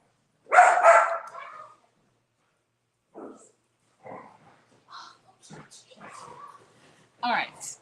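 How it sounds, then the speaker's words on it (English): Dogs barking indoors in a kitchen, a loud burst of barks up front followed by scattered, fainter barks and yelps at intervals, with people talking. "my dogs are barking"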